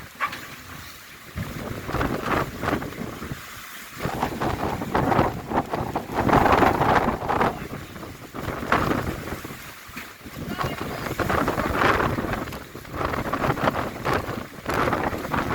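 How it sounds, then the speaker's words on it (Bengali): Rough water of the Meghna River at Baidyer Bazar ghat sloshing and surging during Cyclone Remal, with heavy wind buffeting the microphone, waves rising and falling in uneven bursts, loud and close. "এই দেখুন কত ঢেউ, প্রচন্ড ঢেউ।"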